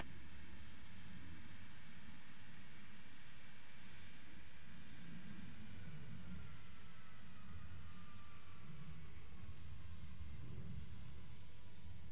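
A Qantas airliner takes off from runway 01 at Brisbane, its engines producing a steady, broad roar that holds for the whole stretch without any voices.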